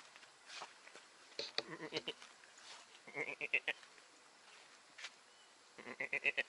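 Goat bleating at a lakeside settlement: several short, wavering bleats come in bursts, moderately close, with people talking quietly around them.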